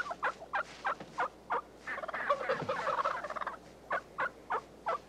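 Wild turkey gobbling outdoors, a loud rattling gobble burst set among a series of short, evenly spaced clucking calls before and after it, fairly close and alone without talk.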